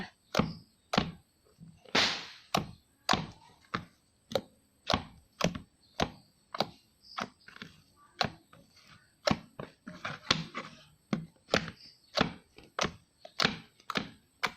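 Steady, rhythmic thuds of a blade chopping meat on a cutting board, close and crisp, repeating about twice a second with no talking.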